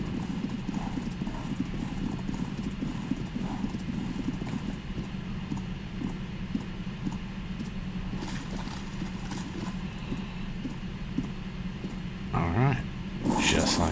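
Horse hooves clip-clop steadily in a Viking roleplay video game as a mount is ridden back to a boat, a continuous even rhythm at moderate volume, with a brief whinny-like burst near the end.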